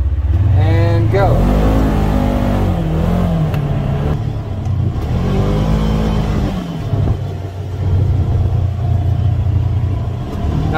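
A Polaris Ranger XP 1000 UTV in performance mode accelerates hard, its engine revving up in rising sweeps that fall back and climb again, loud and close throughout with a steady rumble underneath.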